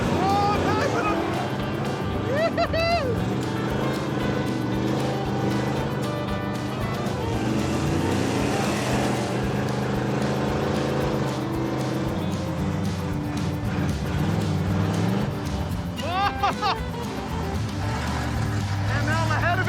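Cars race around a homemade track: engines rev loudly and continuously with rising and falling pitch as they pass and accelerate, while someone talks excitedly over the noise.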